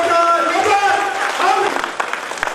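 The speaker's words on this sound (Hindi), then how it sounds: "दुर्गा मैया के दूसरा रूप उषा मेहता जी के लिए जबरदस्त तालियां" A seminar audience applauds to welcome a guest speaker, clapping spread beneath a speaking voice that carries over it before the applause thins out toward the end.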